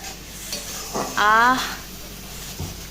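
Spice paste frying in oil in a pan while being stirred, a brief louder sizzle and scrape rising midway over a soft background hiss, with faint voice-like sounds around it.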